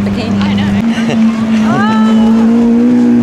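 A Lamborghini sports car engine drones steadily nearby, its tone rising slightly, while people talk over it.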